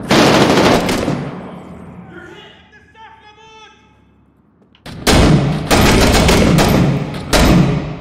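Loud bursts of gunfire in a video game shooting match, a heavy volley that drops to a quiet stretch before rapid shots resume in several strong clusters, with people talking over the action.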